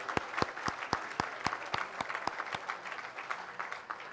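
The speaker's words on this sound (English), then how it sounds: "Please give yourselves a warm round of applause." Sparse, sharp individual claps from a banquet audience at a pre-Ramadan dinner, distinct and spaced out, fairly quiet and thinning toward the end.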